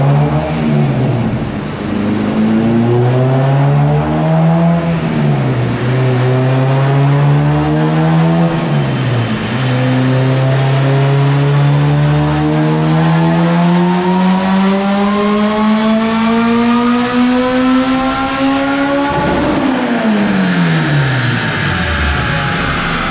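A supercharged Acura RSX Type-S engine runs on a dyno, revving in long, loud climbing pulls with sharp drops between them, the pitch sweeping repeatedly upward with no voices.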